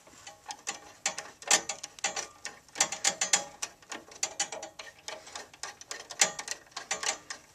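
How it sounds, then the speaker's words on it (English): Long straight-blade screwdriver tightening screws into a Nelson livestock waterer, a close run of irregular clicking, ratcheting turns and metallic ticks that repeats steadily throughout with no talk. "And of course, tighten them down."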